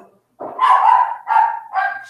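A dog barks indoors, three loud, close, drawn-out yelping barks in quick succession with short gaps between them, no people talking.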